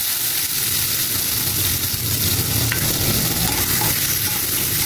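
Tomatoes, pickle, ginger and onion sauté in a hot pan, a steady dense sizzle with faint stirring scrapes running continuously and close, no voices.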